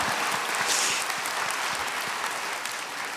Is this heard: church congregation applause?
yes